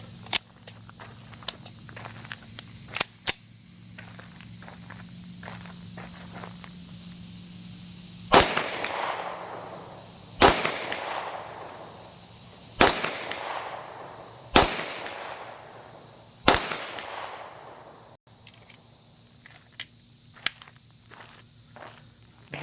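Five sharp, loud pistol shots from an SPS Pantera fed by an STI magazine ring out at an outdoor shooting range, spaced about two seconds apart, each with a fading echo, after quiet handling sounds.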